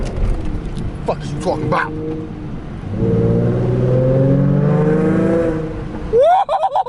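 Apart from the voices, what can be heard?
Ford Mustang engine revving while driving in rain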